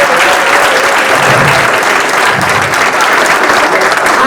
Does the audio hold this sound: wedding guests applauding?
yes